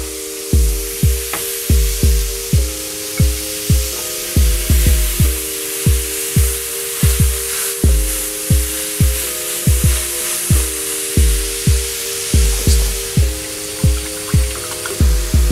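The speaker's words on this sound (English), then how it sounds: "you're looking for that sizzle when you place them. That's how you know your pan is hot enough." Burger patties sizzle in a hot pan, a loud, steady hiss heard beneath rhythmic background music with a regular thumping beat.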